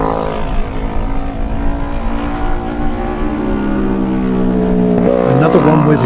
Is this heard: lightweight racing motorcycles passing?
yes